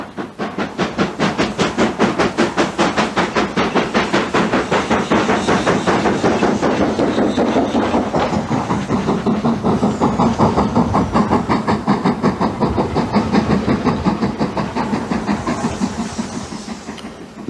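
LMS steam locomotive 5025, built by Vulcan Foundry, working on the Strathspey Railway near Aviemore, gives a loud, steady, rapid chuffing exhaust beat with a rhythmic mechanical clank, holding its pace close by for the whole run.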